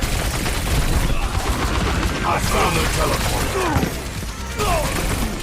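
Tracer's rapid-fire pistols in the Overwatch shooter clatter in dense, continuous bursts amid mechanical game effects, loud and close, with a player talking at moments.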